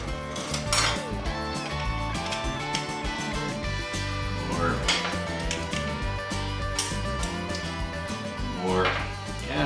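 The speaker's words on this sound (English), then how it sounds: "We're just putting the clutch back in just like it was." Steel and fiber clutch plates being stacked back into the primary of an Evo five-speed motorcycle, giving repeated metallic clinks and light clatter at close range over a steady background hum.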